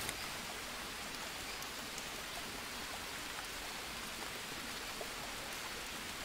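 Heavy rain pours steadily in the jungle survival game Green Hell, a dense, even hiss with scattered drop impacts and no other sounds.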